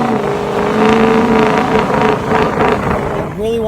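A 2001 Ford 7.3 Powerstroke diesel with a 5-inch straight pipe exhaust, heard as a loud, close, steady deep drone that rises and falls slightly, with rushing wind noise and a brief tonal shift near the end.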